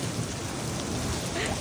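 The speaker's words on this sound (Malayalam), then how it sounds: "ആലിപ്പഴം പോലത്തെ സാധനമാണ്. അതാണ് വീണോണ്ടിരിക്കുന്നത്." Hailstones fall during a mountain trek at Triund near Dharamshala, Himachal, making a dense, constant, fairly loud patter over the ground with no clear speech.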